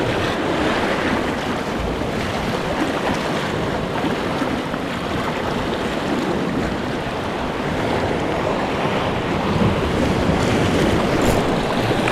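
Waves washing at the waterside where fishing takes place, a loud continuous rush of surf mixed with strong wind buffeting the microphone, with no voices.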